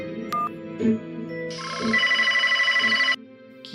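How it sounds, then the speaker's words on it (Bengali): A telephone rings and goes unanswered, with a short electronic tone, then a sustained warbling ringtone burst over a steady background hum, heard close with no talking. "ফোন তো বেজে যাচ্ছে, ফোনটা ধরছে না কেন?"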